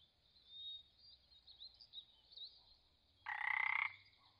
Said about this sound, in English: Mossy frog.